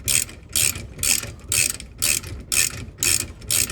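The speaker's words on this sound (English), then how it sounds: "21mm socket on the rear, and then hold the other side with a 21mm open end wrench" A ratchet drives a 21mm socket on the rear axle bolt of an E92 M3, giving eight evenly spaced bursts of bright clicking, loud and close, with no talk.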